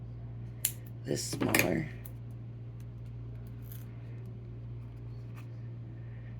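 Scissors cut through card stock for a craft card kit, making a few short, crisp snips close by over a low steady hum, with a person talking.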